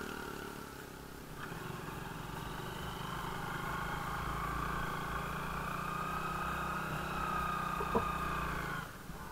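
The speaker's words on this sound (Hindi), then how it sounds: "यहाँ पे आ रहा भाई की जो बाइक है वो फंसते हुए" Hero Glamour motorcycle engine revving steadily while stuck in sand on an off-road ride, a continuous close droning hum with a few brief clanks near the end.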